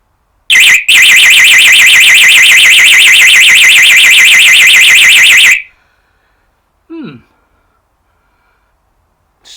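A Texecom external alarm sounder under test blasts a loud, rapidly warbling siren for about five seconds after a brief stutter, then cuts off, followed by a short sigh-like breath and near silence.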